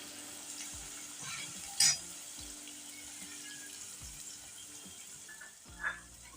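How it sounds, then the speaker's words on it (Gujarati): Finely chopped onions sautéing in oil in a pan for a capsicum curry: a steady soft sizzle runs throughout, broken by two brief louder clinks of a spoon, moderately close and without speech. "હવે આ ડુંગળીને આપણે આ રીતના સાતળી લઈશું કલર આછો ગુલાબી થાય ને તાર સુધી"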